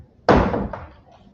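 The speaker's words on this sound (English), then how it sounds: "Can you close that door?" A backstage door slams shut with a single loud, close thud and a brief rattle that quickly fades.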